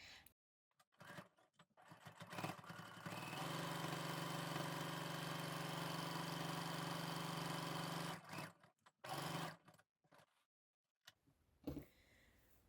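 A sewing machine stitches layered quilted fabric, running steadily as a loud, even mechanical hum for about five seconds, then stopping and starting in a few shorter bursts with quiet pauses between.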